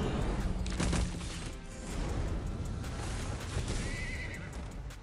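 A horse neighs loudly in the Summoners War: Lost Centuria video game, layered over dense game effects and clattering hooves, with a sharp high whinny near the end.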